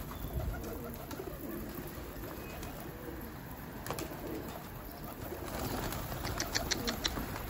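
Pigeons cooing outdoors, soft low coos and occasional wing flaps under steady ambient background noise, fairly faint and continuous.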